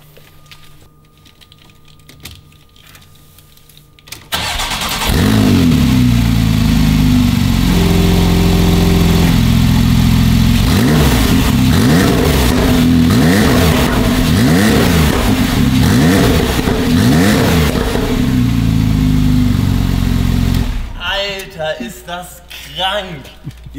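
Porsche 911 991.2 Turbo cranks, catches and idles, then rises and falls through a series of rhythmic throttle blips before shutting off, loud and close; a short spoken word comes before the start.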